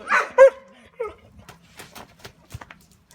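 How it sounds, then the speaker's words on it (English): Dogs in Vilcabamba give a couple of sharp barks and yips up close, followed by quieter scattered yelps and clicks fading off. "The dogs, the crazy dogs,"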